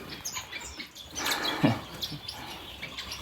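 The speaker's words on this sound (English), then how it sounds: "in here in my main aviary, we've got mostly zebra finches" Zebra finches chirp and twitter in an aviary, a scatter of short high calls over a soft background hiss.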